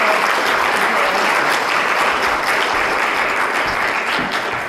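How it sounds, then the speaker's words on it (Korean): Wedding guests at a hotel ceremony in Yeosu giving the newly married couple a loud, dense, continuous round of applause, a full room clapping steadily throughout with no talk. "두 사람에게 축복의 박수 부탁드리겠습니다"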